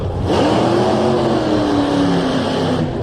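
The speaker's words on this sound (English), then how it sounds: "That burnout looks too hot, though." A drag race car does a burnout at a Canadian Nationals drag strip, its engine roaring loud and sustained with rising revs and tire squeal for nearly the whole stretch, close and steady before cutting off.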